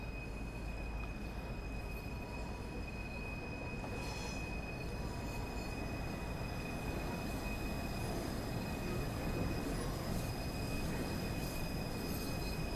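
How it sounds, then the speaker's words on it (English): A short steam-era freight train arriving in the Train Sim World video game, a continuous rumbling roll of wagons with a thin high squeal riding over it, steady and moderately close, no voices. "Can we just appreciate this train arriving first?"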